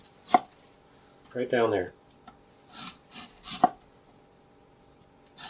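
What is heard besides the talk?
knife slicing cabbage thinly for sauerkraut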